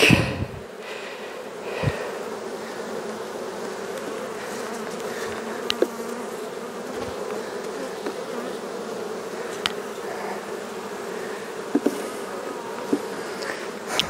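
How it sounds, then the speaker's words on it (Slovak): An open honeybee colony buzzes in a steady, dense drone, close and loud, with occasional louder passes of individual bees and a few soft knocks from hive work, no talking. "Toto je krásne včelstvo."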